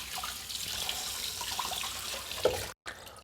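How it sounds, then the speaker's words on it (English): Tap water runs steadily over a juicer screen during rinsing, a close, even splashing stream that cuts off abruptly near the end and then resumes briefly. "you're left with this screen, which I'll rinse it"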